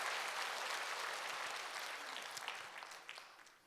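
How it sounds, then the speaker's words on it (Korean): A church congregation applauds to welcome visiting pastors, a dense wash of clapping that is soft and somewhat distant, thinning and fading toward the end. "우리 한번 뜨거운 박수로 환영해 주시기 바랍니다"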